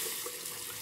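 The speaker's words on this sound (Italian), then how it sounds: "così, acqua calda." Hot water runs steadily from a tap in a brief, close, continuous hiss-like stream with no other sounds.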